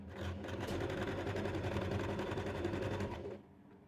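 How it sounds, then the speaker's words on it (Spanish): A sewing machine runs a zigzag stitch through pajama-shorts fabric in one steady, fast, continuous whir. It is close and fairly loud, then stops abruptly near the end. "empiezo a hacer la puntada zigzag"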